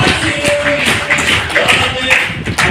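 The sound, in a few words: loud clapping for the doctors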